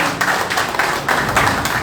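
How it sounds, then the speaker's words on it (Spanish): A short stretch of audience clapping at a national assembly of the Peruvian rondas campesinas, a steady patter of hands with soft swells, heard at moderate volume. "Vamos a felicitarle con fuertes y calurosos aplausos."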